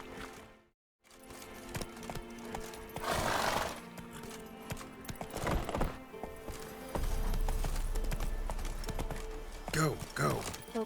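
Hooves of the horse Roach clop and thud in The Witcher 3, mixed with game sounds and intermittent talk, with a brief silence near the start and a low rumble joining later.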